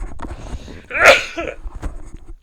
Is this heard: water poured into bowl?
no